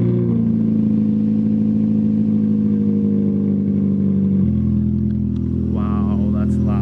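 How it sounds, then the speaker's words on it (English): A high-mileage car's engine runs loud and close after a cold start, a steady droning idle that shifts pitch partway through, with a voice briefly speaking near the end. "I'm gonna do a cold start."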